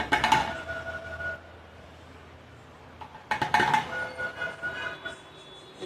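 A metal spoon clinks against a container while scooping tea leaves, two clusters of sharp clattering taps separated by a quieter gap, close by.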